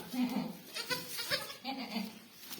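Newborn goat kids bleat in a short series of near, fairly loud cries, several overlapping bleats spread across a couple of seconds with soft background noise.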